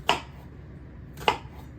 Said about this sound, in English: we're gonna make side cuts like this